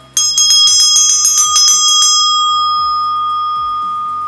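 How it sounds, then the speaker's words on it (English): A heart chakra bell struck once, ringing loud and bright with a sharp attack and shimmering overtones that fade slowly over several seconds, with no talk. "This is my heart chakra bell."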